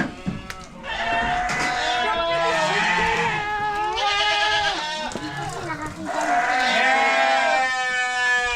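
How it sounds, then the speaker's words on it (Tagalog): Several goats at a farm resort in Bulacan, Philippines, bleat repeatedly and loudly nearby, overlapping calls rising and falling, with a person's voice mixed in. "Tinatawag tayo ng mga kambing."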